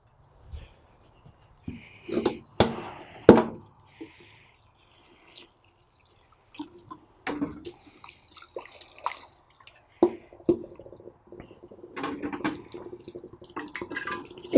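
Water poured and dripping onto quicklime in a container, giving scattered splashes, drips and small crackles spread over the clip with quiet gaps, close by and moderately loud, with no talking.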